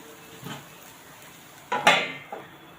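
A metal lid set onto a pan on the stove while cooking ghavan, the Konkan rice dosa, with a soft clink at first and then a sharper, ringing clatter as it settles, followed by a faint tap, all close and quiet.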